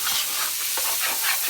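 Chicken pieces browning in a pan for a Cajun fricassee, giving a close, steady sizzle and hiss with faint stirring scrapes.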